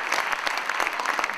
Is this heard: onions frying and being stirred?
no